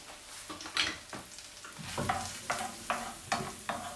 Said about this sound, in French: Donc là, on fait revenir nos oignons